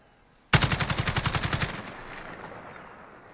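An STG77 rifle fires one full-auto burst in Call of Duty Modern Warfare: about a dozen rapid, evenly spaced loud shots lasting just over a second, followed by a fading echoing tail, with no talk.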